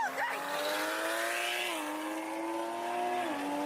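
A supercharged Ford Mustang race car with a Coyote engine drones at high revs, pitch holding steady then shifting through gear changes, loud and close.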